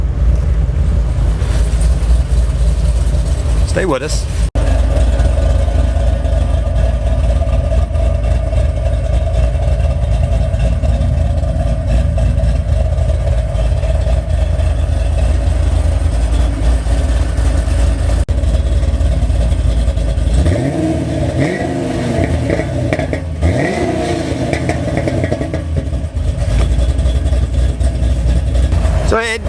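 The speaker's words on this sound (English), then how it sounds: "I want you to hear the exhaust from the outside." A Pontiac G8 GT idles, heard from outside the car: a deep, steady exhaust rumble runs continuously and loudly, with a few brief shifts in tone. A voice speaks briefly over it.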